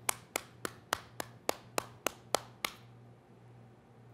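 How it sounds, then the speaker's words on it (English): Slow, evenly spaced single claps, about nine sharp isolated strikes close to the microphone during a virtual university commencement for graduates, ending and leaving faint room hum. "Everyone, please join me in a round of applause for each of you"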